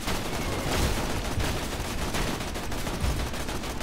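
Dense, continuous gunfire from players shooting a Goliath enemy in Borderlands 2, steady rapid shots blending into a loud, unbroken barrage with no pauses.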